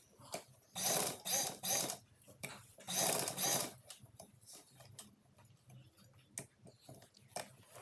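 A sewing machine stitches a kameez in short bursts of fast, buzzing needle runs, close and clear, separated by pauses with small ticks and clicks as the fabric is turned.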